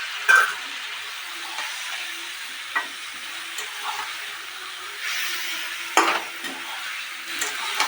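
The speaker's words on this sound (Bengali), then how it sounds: "অল্প করে এই বাটা বাটার জলটা দিয়ে ভালো করে কষে নিতে হবে।" Spice paste with prawns fries and is stirred in a pan, a steady sizzle broken by several scraping stirs and spoon knocks, close up, with no voices.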